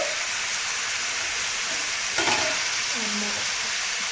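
Ginger-garlic paste fries in hot oil in a pan for a dhaba-style paneer curry, giving a steady, close, hissing sizzle with a brief louder burst midway and faint voice traces in the background.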